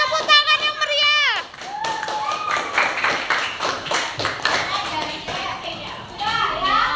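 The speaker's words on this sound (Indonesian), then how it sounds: "Tepuk tangan yang meriah." Classroom of children clapping together, busy and uneven, mixed with lively kids' chatter and shouts nearby; high childish voices ring out at the start before the clapping builds.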